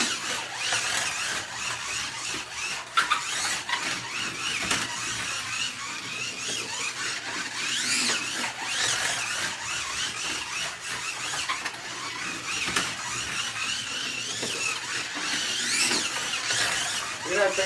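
A fast slot car screams around a home track, its thin motor whine and tire squeal surging in repeated passes, loud and near, with a faint voice occasionally underneath.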